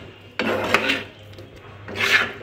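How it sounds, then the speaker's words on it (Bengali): Marinated chicken for black pepper malai chicken is stirred with spices in a bowl, two short raspy scraping strokes of a utensil against the dish, close and clear with no talking. "এবার আমি সুন্দরভাবে আমি এটাকে মিশিয়ে নিচ্ছি, সম্পূর্ণ মিশ্রণটার মধ্যে যাতে মশলাটা লেগে যায়।"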